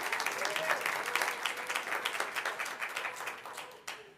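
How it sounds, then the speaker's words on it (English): A council meeting audience gives a round of applause for the city councilors, a dense, even wash of clapping heard from a little distance that thins out toward the end. "I really do think that we should give our city councilors a huge round of applause"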